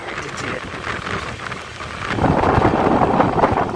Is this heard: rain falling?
yes